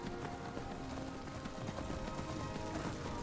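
Horse hooves clip-clop in Skyrim Special Edition, a steady, faint run of hoofbeats under quiet ambient game sound.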